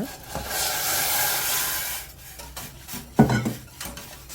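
Flour paste being stirred in a pot on the stove for radish and young cabbage water kimchi, a steady scraping and rubbing of utensil against the pot that fades midway, then returns with a sharper knock near the end.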